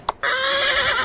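A horse in the Roblox Wild West game gives a single clear neigh, loud and close, with a short thump just before it and no talk.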